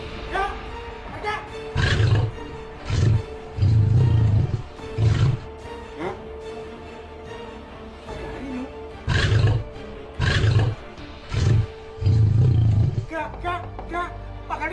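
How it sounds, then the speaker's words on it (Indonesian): A tiger roars repeatedly in bursts of rumbling growls, loud and close, with shorter and longer calls recurring in two groups, while people talk underneath. "Itu suara harimau ya?"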